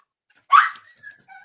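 A puppy gives a single short, sharp bark, then a few faint yips and whimpers in an otherwise quiet room.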